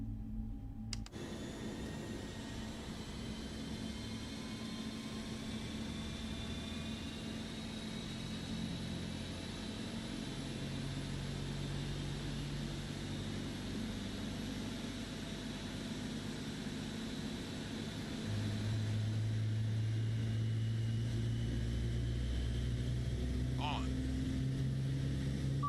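Boeing 777 engine number one heard from outside in Microsoft Flight Simulator 2024, a steady loud turbine roar and whine that holds for the whole stretch and swells a little louder near the end, with no talk.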